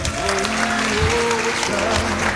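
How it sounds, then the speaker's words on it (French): Audience applause fills a short stretch at a celebration, steady clapping at close range with voices and cheering mixed in throughout. "On peut l'applaudir s'il vous plaît."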